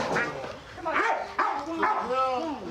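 A police dog barks and yelps in several sharp, excited bursts close by during an outdoor arrest, with officers' raised voices mixed in and partly overlapping the barking.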